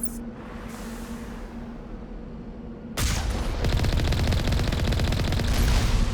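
Defensive turrets fire in the video game Mass Effect: after a low steady hum, loud, dense rapid automatic bursts begin abruptly about halfway through and continue without pause to the end.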